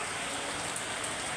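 Rain falls steadily as a dense, even hiss during the monsoon, soft and unbroken for a brief moment.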